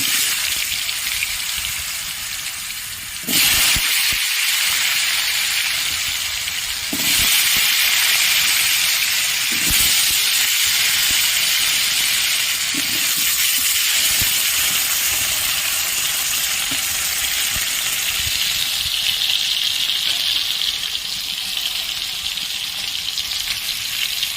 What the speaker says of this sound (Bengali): এবার আমি এখানে আলুগুলো ভেজে নেব।